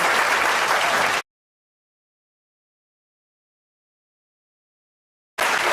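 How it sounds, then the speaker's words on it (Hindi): Television show audience applause greets Munawar Faruqui on Bigg Buzz, heard as a dense burst of clapping that cuts to silence and then resumes abruptly at the end. "जोरदार तालियां बजाओ।"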